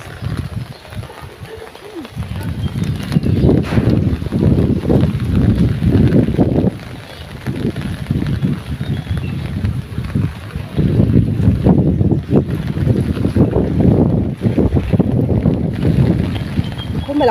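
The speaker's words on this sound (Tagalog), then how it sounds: "Oh, malakas ang hangin." Strong wind from a low pressure area in Pio V. Corpus, Masbate, Philippines roars continuously, buffeting the microphone with heavy low rumble and gusts that swell and ease.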